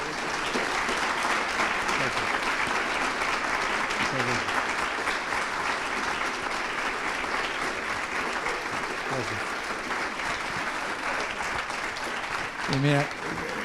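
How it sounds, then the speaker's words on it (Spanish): A medical audience gives a warm round of applause at an event honoring a doctor, continuous clapping throughout with some faint voices and murmurs mixed in, a brief louder swell near the end. "Yo pido un fuerte aplauso."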